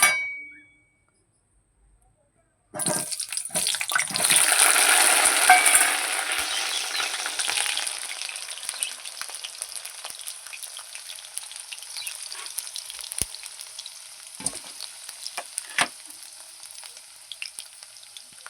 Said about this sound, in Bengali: এবার আমি আলুগুলো ছেড়ে দেবো